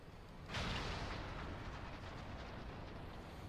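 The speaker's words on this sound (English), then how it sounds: "All cannons return fire" A deep rumbling boom of cannon fire from Final Fantasy XIV airship combat swells up after a brief lead-in and holds as a sustained, roaring barrage.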